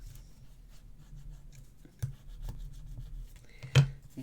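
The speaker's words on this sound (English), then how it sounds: "Use your bone fold if needs be." A bone folder rubs and creases card with soft, close scraping strokes on a quiet tabletop, broken by a couple of sharper taps and a brief louder rasp near the end.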